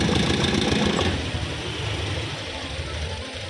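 A 2021–2024 Honda Scoopy scooter with a badly sputtering engine that won't run properly, heard as a rough, uneven mid-pitched engine drone revving and faltering, loudest at first and then settling lower.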